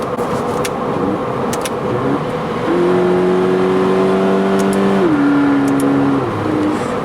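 A 2019 Subaru BRZ Limited engine revs up steadily as it accelerates, its pitch rising, then drops as the automatic transmission shifts into the next gear.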